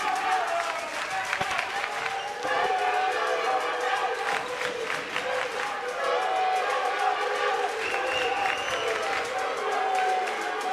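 A crowd shouting and cheering at a table tennis match at the South African Open, a dense, continuous roar of voices with scattered claps, loud and close, and commentators talking underneath.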